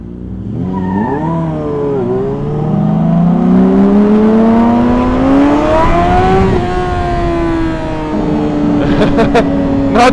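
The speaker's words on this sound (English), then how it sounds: "Burn out or squeal out." A truck engine revving hard during a burnout, its pitch climbing and holding in a loud sustained whine before dropping off, with people talking nearby.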